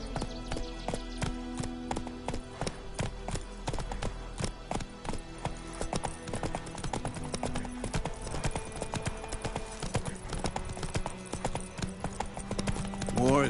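In The Witcher 3, the horse Roach gallops with a steady, rapid clip-clop of hooves that runs without a break throughout.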